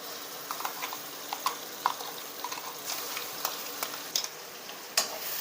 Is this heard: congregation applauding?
no